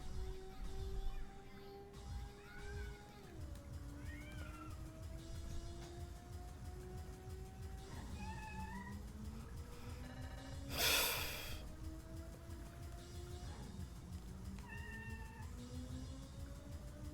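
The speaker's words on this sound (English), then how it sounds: "Kittens really do not like closed doors." A kitten meows repeatedly at a closed door, several drawn-out rising and falling cries at a moderate distance, heard over the steady engine drone and music of the Ridge Racer racing game.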